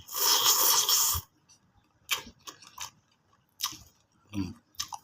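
Close eating of Korean-style Mama instant noodles, with a loud slurp at the start followed by sparse chewing and soft mouth clicks, no speech.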